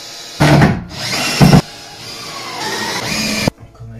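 A cordless power driver with a star bit drives screws into a screw-on door frame during a door installation, with loud whirring bursts that start and stop, including one longer sustained run, close up and without speech.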